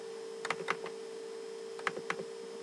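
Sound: typing on a computer keyboard

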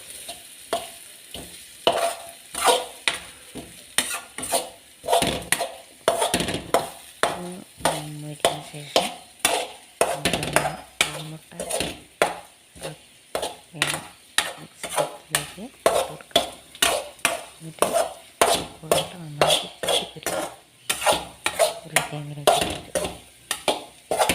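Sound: stirring and mixing egg and potato in a pan

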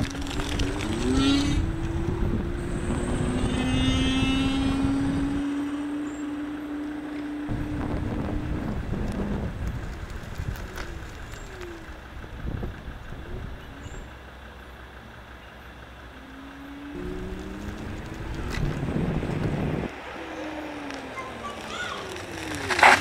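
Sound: riding a Ninebot Max electric scooter with new handlebars

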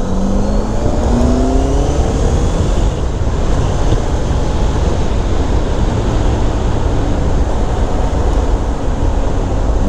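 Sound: Honda CBR650F motorcycle riding, engine revving

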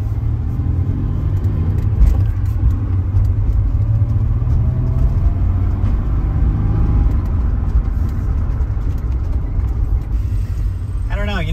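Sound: Nissan 300ZX engine given a slow rev

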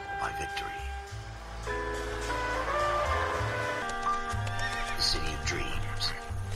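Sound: horse neighing in the video game L.A. Noire

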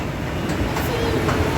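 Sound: metro train at a metro station

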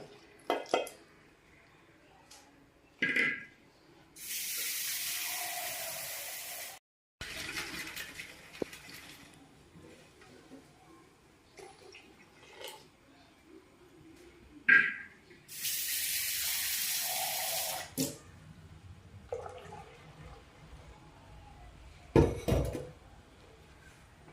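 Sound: water poured to rinse the grinder jar and lid

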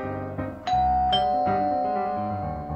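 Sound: doorbell ringing

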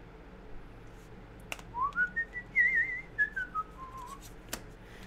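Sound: person whistling

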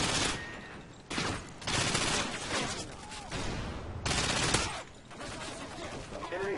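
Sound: rapid-firing gun in Call of Duty Modern Warfare 2 video game

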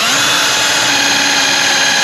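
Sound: power drill drilling

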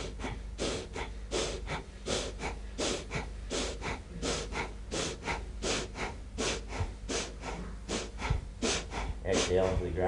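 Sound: belly breathing during qigong exercise

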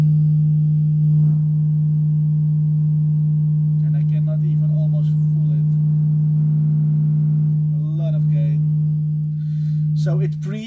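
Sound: sine wave from Eurorack mixer with gain turned on

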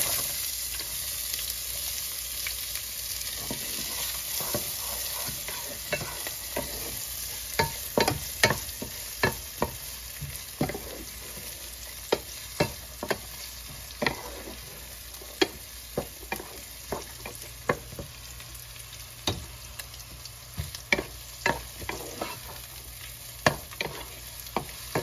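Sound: onions frying and being stirred for palak matar paneer

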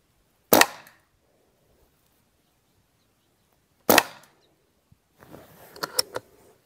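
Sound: Rossi Outlander carbine firing a slug shot

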